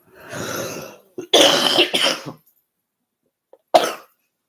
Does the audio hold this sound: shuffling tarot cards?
no